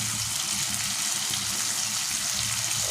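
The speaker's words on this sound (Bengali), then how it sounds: "মশলাটা ভাজা হয়ে গেলে হালকা একটু পানি দিয়ে দেবো" Water is poured into frying spice paste for a chicken dish, a steady hissing sizzle and gush that holds evenly and close throughout.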